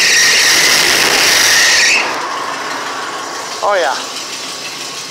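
A custom tandem van engine fires up with a loud roar, then settles into a steady idle while a person briefly speaks over it.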